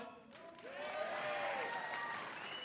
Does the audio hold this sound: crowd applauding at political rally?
yes